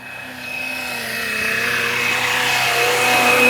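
A FlyWing Bell 407 RC GPS helicopter drone flies nearby, its rotor whine and buzzing hum steady and rising gradually in loudness over a few seconds with no talking.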